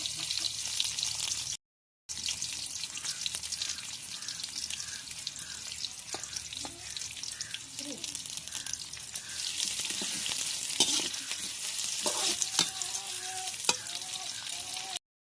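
Curry leaves frying in hot oil for a Tamil bitter gourd gravy, a steady soft sizzle with scattered crackles and stirring clinks throughout, a brief dropout near the start, no talk.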